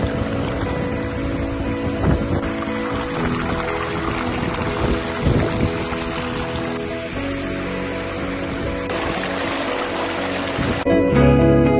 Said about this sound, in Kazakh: өзі табиғи, барлық жағынан табиғи ағып тұрған бұлақ